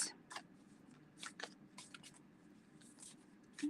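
Tarot cards being shuffled by hand, with a run of soft, papery flicks and slaps in an irregular rhythm, faint and close in an otherwise quiet room.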